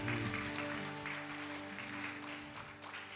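A church congregation at a Sunday worship service claps together for a sustained stretch, fairly quiet and steady, beneath held instrumental chords that ring on throughout.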